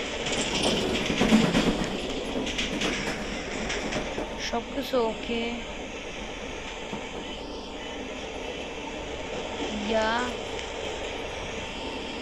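A train moving in a metro escape video game, a sustained rolling rumble with rhythmic clatter and whining mechanical tones, while a person talks intermittently over it.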